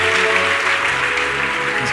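Church congregation applauding and cheering during a service, a dense continuous wash of clapping and voices filling the room for the whole stretch.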